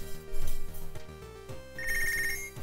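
Telephone bell ringing in Punch Club, a repeating electronic ring with steady tonal bursts and game music underneath, loud and close.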